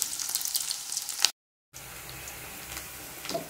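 Pork with onions and taro root sizzles in a pan for a Chakma local-style dish, a steady crackling hiss that breaks off briefly mid-clip and then resumes more softly.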